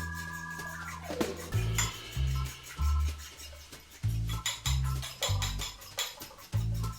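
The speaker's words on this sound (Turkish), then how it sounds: "Yumurtamı çırpıyorum." A whisk beating eggs in a bowl for crispy fried chicken batter, quick rhythmic clinking and scraping strokes in repeated bursts, fairly quiet and close with no talking.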